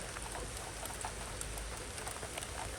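Light rain patters steadily onto a roof while water runs through a gutter, a soft, even broadband wash with faint scattered drops and no voices.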